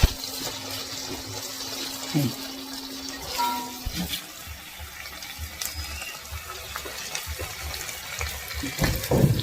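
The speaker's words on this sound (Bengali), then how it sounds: "এই যে এখন জল দিচ্ছে অল্প করে জল দিয়ে নিতে হবে" Water pours in small amounts into a pan of frying chicken feet curry, a running gush and splashing over a steady background hiss, close and moderately loud, with faint clatter and no clear talk.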